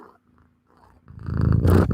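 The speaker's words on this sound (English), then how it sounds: "he's doing some purring" A cat purring close up, a brief quiet pause and then a loud rumbling purr that swells over the last second, with no one speaking.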